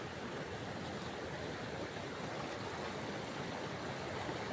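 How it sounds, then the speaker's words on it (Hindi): A swollen mountain stream rushing during heavy rain in the Garhwal hills, a dense, steady roar of water and rainfall filling the scene evenly from start to finish, with no talking. "ऊपर से पानी और ज़्यादा बढ़ रहा है, और बारिश भी और तेज। और जो ये गदेरा है, ये भी कुछ अपने उफान पे आने वाला है।"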